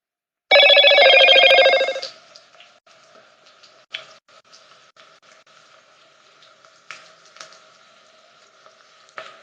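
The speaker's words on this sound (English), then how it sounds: "Let's turn those notifications off straight away." A phone's notification tone rings loudly and close for about a second and a half, followed by faint scattered ticks and soft tapping from a kitchen as a chicken Madras curry is cooked.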